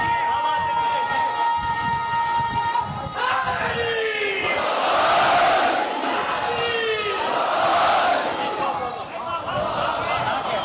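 A large crowd at a Muharram majlis in an imambargah raises loud chanted religious slogans in two swelling bursts, voices merging into a roaring collective shout after a sustained tone.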